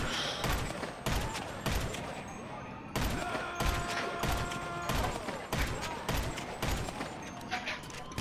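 Bursts of rapid gunfire fill a Grand Theft Auto V Online firefight, loud and repeated across the whole stretch, with players' voices underneath.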